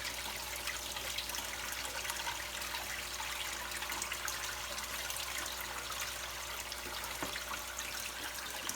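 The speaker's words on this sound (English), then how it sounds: "it'll gradually go more and more as the air is being removed from the bell siphon" Water trickles and gurgles steadily through an aquaponics media bed bell siphon as it begins draining, a continuous low, faint wash of flowing liquid with no speech.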